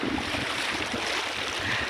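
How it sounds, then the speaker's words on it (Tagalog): Strong waves and rushing water churning steadily, with gusts of wind buffeting the microphone and no voices. "Ang lakas ng alon ng agos ng tubig."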